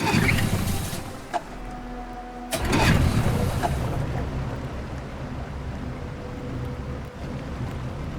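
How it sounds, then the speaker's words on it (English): Boat engine running steadily in Detroit: Become Human, a low droning hum with wind and water noise, with a louder surge partway through, continuing alone without talk. "We're far enough out. We can use the engine."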